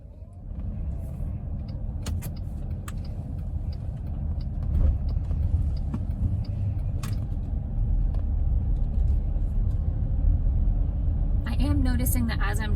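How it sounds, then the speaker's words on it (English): A car drives along and makes turns, its engine rumble steady and close throughout, with a few brief clicks and a higher rattle near the end; someone talks over it. "as I'm driving around and making these turns"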